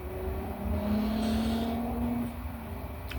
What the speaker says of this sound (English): I hear a motorcycle on the highway.